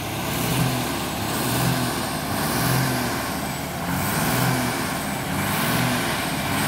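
A D6 bulldozer engine roars steadily while pulling an 8-ton timber truck on a farm, a loud, continuous heavy diesel drone with rhythmic surges and a faint hiss of air brakes.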